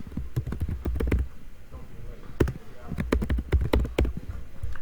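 Keys clatter on a computer keyboard in quick uneven bursts, pausing briefly midway before a second run of typing, close and moderately quiet, with no voices.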